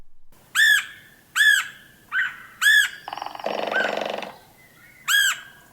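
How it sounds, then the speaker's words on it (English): A red-headed woodpecker gives loud, high-pitched squawking calls in a spaced series, with a brief harsher rattling chatter in the middle, close and clear. "The red-headed woodpecker's voice is a high-pitched, excited-sounding queer or quia."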